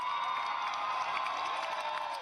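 A crowd of protesters marches through Manhattan streets in a George Floyd demonstration, a dense, continuous roar of many voices with chanting and cheering, steady and moderately distant.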